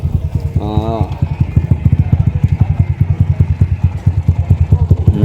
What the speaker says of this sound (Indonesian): Ini rombongan motor-motor besar.